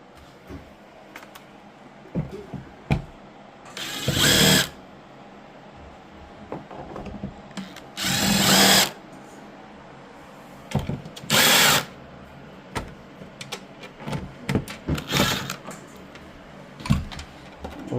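Power drill backing screws out of an LED screen stand: three or four short, loud whirring bursts separated by quieter handling clicks and taps, close by with no talking.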